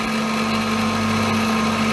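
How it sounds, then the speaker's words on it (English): A 7/64 (about 2.75 mm) drill bit peck drills into the end of a steel pinion, roughly 22 mm deep, with shallow pecks and full retracts. The machine hums and whines steadily and loudly throughout, with no talking. "I'm drilling into the end of this pinion around 22mm deep."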